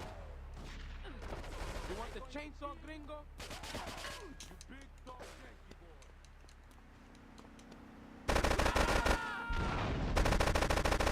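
Gunfire in the GTA III video game: rapid bursts of shots under tense game noise and a dense, busy mix, with a sudden much louder, sustained volley near the end.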